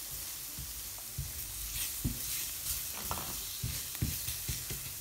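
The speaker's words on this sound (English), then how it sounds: "Right, we're just going to stir that in." Flour being stirred into a sizzling pan for tuna noodle pasta: a steady frying hiss underneath soft, irregular scrapes and taps of a utensil against the pan, close by.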